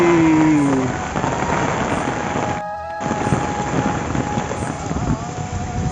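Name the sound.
heavy rain falling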